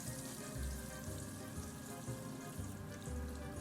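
Butter and olive oil heat in a hot pan with a steady, faint sizzle and crackle, with a few soft low bumps and no voices.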